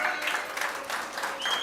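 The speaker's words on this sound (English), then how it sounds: "Give them a round of applause." A round of applause from the crowd at a UNC political meeting in Chaguanas, a brief burst of dense, steady clapping heard at moderate distance.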